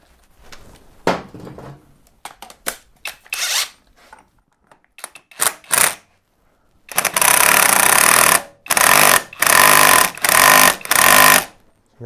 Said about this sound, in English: So let's get this nut tightened up.